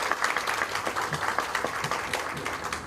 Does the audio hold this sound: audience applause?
yes